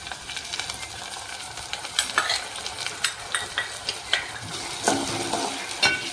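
Onion and tomato frying for kantola shaak while being stirred, a continuous crackling sizzle broken by regular spoon scrapes and clicks against the pan, close and fairly quiet.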